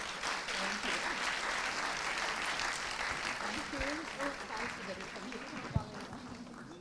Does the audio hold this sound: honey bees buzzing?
no